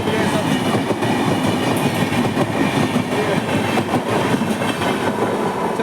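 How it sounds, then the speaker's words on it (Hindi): A train passes on a railway line, a loud, dense rumble with rapid clickety-clack of wheels over the rails, steady throughout and close by. "जब मैं ट्रेन को देखता हूँ ना, मेरा खून फूक जाता है।"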